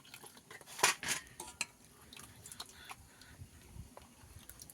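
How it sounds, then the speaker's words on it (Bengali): A metal spoon clinks and scrapes against a bowl while coconut and milk ice cream mixture is added little by little, a few sharp close taps early, then soft intermittent scraping. "চামচা করে দেবো অল্প অল্প করে"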